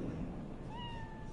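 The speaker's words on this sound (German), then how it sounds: "Oh, das ist eine Katze." A single drawn-out cat meow in the video game Cyberpunk 2077 rises and holds over a low background hum, clear and close, with no one speaking.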